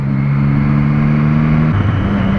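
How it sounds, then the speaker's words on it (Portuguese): A Scania truck's engine drones loudly and steadily as it takes a curve, a low close hum that drops in pitch near the end as it eases off. "abrindo a curva da Scania"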